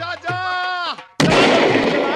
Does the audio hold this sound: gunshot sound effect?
yes